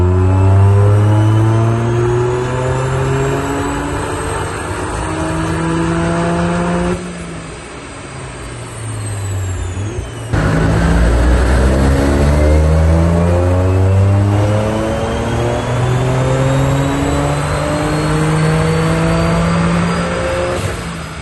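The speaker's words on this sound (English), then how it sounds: "strap it and put it on the dyno and do a little power run" A Toyota GR Yaris with a track setup strapped to a dyno for a power run: a loud, close engine climbing steadily through the revs, a brief drop at a gear change, then a continued climb held near the top, with no talking.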